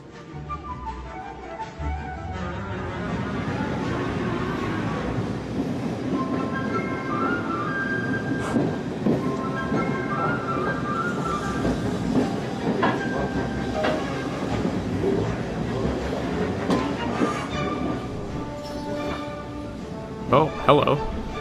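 Steam locomotive Camelot hauling a rake of 1950s British Railways standard Mark I coaches on a heritage railway, a continuous rumbling roll of wheels and carriages with occasional squeals and clatter, heard at steady volume throughout.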